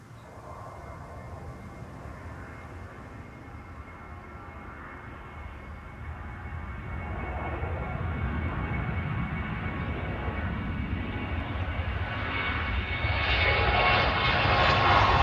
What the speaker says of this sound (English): The Georgian Airways off to Tbilisi